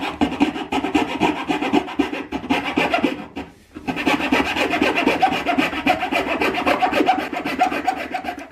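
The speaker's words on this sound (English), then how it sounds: "we're just going to cut it out with a coping saw" Coping saw cutting through a wooden boat keel to make a recess for a lead ballast piece, steady rasping back-and-forth strokes up close, with a brief pause midway before the rhythmic sawing resumes.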